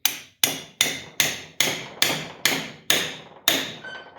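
About ten sharp hammer taps strike metal at a steady, even pace, knocking a valve stem seal onto a Mitsubishi 3000GT 6G72 engine, each ringing briefly before the next, close and loud.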